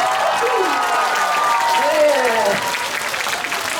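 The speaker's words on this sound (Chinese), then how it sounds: "掌声加尖叫" A concert audience at a hospital charity show applauds and cheers, a steady wash of clapping. A voice sings or speaks over the crowd noise throughout.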